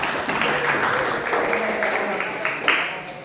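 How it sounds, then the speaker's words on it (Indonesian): Applause in a classroom after a student debate, a brief burst of scattered clapping hands, fairly loud and close, thinning slightly toward the end. "Terima kasih, tepuk tangan buat."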